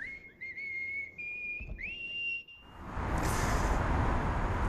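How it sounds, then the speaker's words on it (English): A boat driver whistles the Star-Spangled Banner, a slow, steady melody with clear sustained notes, on floodwater, then the tune gives way to a broad rushing noise. "Our boat driver there offering the Star-Spangled Banner by whistling today"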